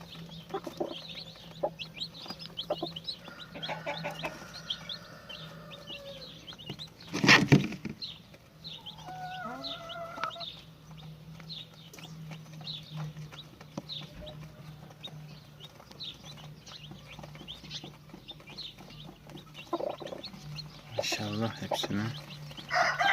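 Chickens cluck and peep intermittently, with a rooster-like call and occasional brief voices in the background; a loud rustling thump interrupts partway.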